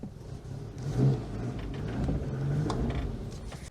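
A car exhaust revs with a rough, throaty rumble, swelling in a couple of bursts and staying fairly loud and close throughout.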